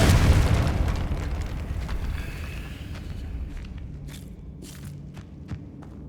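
A Confringo blasting spell detonates in Hogwarts Legacy, a loud booming explosion at the start that rolls off into a long fading rumble, followed by faint scattered crackles and a soft thud.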